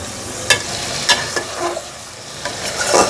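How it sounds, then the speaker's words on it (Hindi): Chicken browns in ghee in a pan at medium heat, giving a loud close sizzle broken by several scraping stirs of a spoon, with no voices. "अब हम इसको भूनेंगे चिकन का कलर चेंज होने तक"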